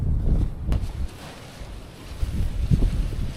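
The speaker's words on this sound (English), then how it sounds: "you've got like massive headwind, 45 kilometers an hour" Strong headwind roars across the microphone while cycling in remote China, a low buffeting rumble with gusts that swell and fade, close and unbroken.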